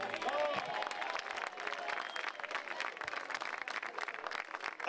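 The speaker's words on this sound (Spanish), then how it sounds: "Muchas gracias por esos aplausos tan merecidos como espontáneos." A concert audience at a neighbourhood show in Barrio Santa Bárbara applauds steadily, the dense clapping of a crowd carrying on throughout with no break.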